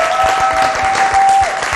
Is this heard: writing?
no